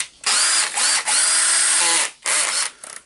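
A repaired Makita BHP453 cordless hammer drill runs in a close, loud test, its whirring motor cut into several bursts of about a second with brief pauses between, the last short run sputtering out.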